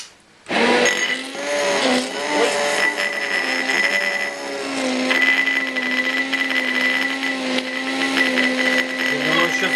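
Homemade mayonnaise is whipped by a mixer while oil is poured in a thin stream, a loud, steady motor whine that holds from start to end with slight shifts in pitch as it works.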